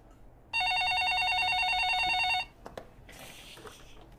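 A telephone rings once with a single electronic trilling burst of about two seconds. After it stops, a few faint clicks and handling sounds follow in a quiet room.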